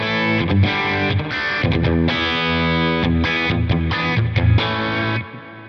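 A heavily distorted electric guitar through a Quad Cortex Mercury amp model plays a chugging riff with sustained crunchy chords, loud and up front, ending with a short fade.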